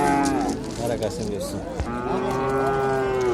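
Cattle at a livestock market low in long drawn-out moos, one overlapping another, loud and near, with traders' voices briefly audible beneath.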